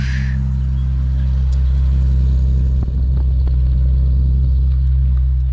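A car engine running cold shortly after starting, a loud steady low rumble idling evenly and alone at close range.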